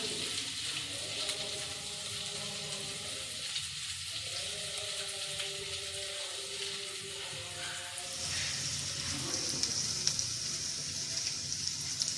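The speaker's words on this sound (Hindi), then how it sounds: "और मसाला फ्राई होना शुरू हो गया, लेकिन मैं इसको अच्छी तरह फ्राई करूँगी" Masala with garlic and ginger frying in a pan, a steady close sizzle running throughout, with a faint hum underneath and a brief brighter hiss later on.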